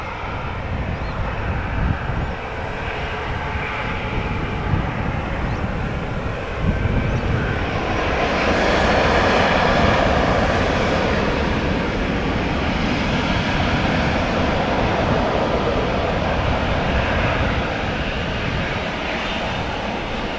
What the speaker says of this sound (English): This is the 737 to Milan, KLM flight 1621.